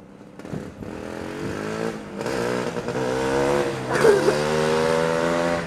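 A motorcycle ridden by a horse accelerates and shifts into second gear, engine pitch climbing in rising harmonic sweeps, dipping briefly at the shift, then rising again, loud and close, with no voices.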